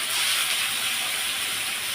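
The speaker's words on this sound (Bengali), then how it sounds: "মশলা কষানোর জন্য দিয়ে দেবো সামান্য একটু জল" A little water poured into spices frying in a pan for spicy, sour and sweet meat, giving a loud, steady sizzle and hiss that fills the whole moment without a break.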